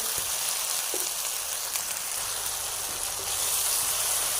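A spiced mixture with green chillies fries in a pan, producing a steady close hiss and sizzle that holds even throughout, with no talking.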